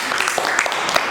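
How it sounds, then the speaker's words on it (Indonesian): Brief applause breaks out for Pak Aga during a podcast recording, a short burst of clapping mixed with voices. "kita tepuk tangan dulu sama Pak Aga"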